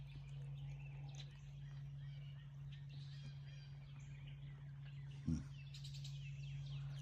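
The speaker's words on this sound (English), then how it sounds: "Lots of birds." Birds sing along the White River on a cool morning beside an eddy, faint scattered chirps and calls at a distance over a steady low hum, with one brief thump partway through.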